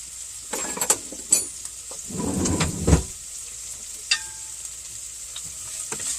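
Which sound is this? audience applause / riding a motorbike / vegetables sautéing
vegetables sautéing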